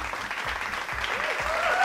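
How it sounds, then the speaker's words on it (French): Brief, dense applause from a crowd at a raffle draw, steady clapping throughout at close range. "On applaudit Alissa."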